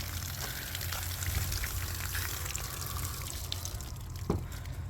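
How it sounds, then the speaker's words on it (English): Cold water from a garden hose sprays and patters onto a winter garden outdoors, a soft, continuous hiss and splash with scattered drips, fairly quiet and steady. "So I'll set you guys up and we're gonna water the garden"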